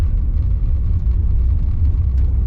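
Steady low rumble of a Rover 75 CDTi diesel driving on a bumpy road, heard from inside, with a constant road and engine drone and occasional small bumps.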